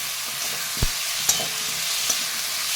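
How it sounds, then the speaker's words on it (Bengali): Potato pieces are stir-fried with onions in a pan, a soft, faint sizzle with three brief spatula taps and scrapes, and no talking. "এই পেঁয়াজের সাথেই আলুগুলোকে হালকা নাড়াচাড়া করে ভেজে নিচ্ছি"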